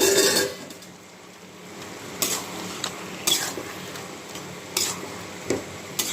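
Papaya ghonto being stirred and sautéed in a pan: a steady low sizzle with a few scattered clinks and scrapes of a spoon against the metal pan, close and moderately quiet.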